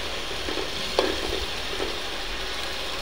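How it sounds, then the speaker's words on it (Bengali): Small shrimp sauté with spices in a pan, producing a constant close sizzle and hiss broken by a few soft scraping stirs, with no voices. "এখানে ছোট চিংড়ি নিয়েছি, নিয়ে এগুলা কষিয়ে নিলাম"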